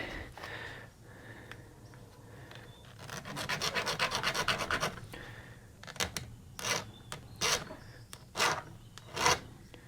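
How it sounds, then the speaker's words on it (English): A hand file works along a chainsaw chain in bursts of quick, scratchy rasping strokes, first as a sustained run and then as separate sharp strokes, close and fairly loud. "I'm not filing the raker because I have no need to."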